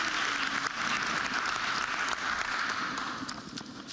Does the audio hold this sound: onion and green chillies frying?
no